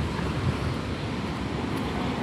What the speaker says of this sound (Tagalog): Mahangin siya.